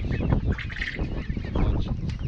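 Poultry calls from small bantam and silkie chickens among other birds at a busy exotic bird and animal swap, steady overlapping clucks and honk-like cries close by against a continuous crowd hubbub.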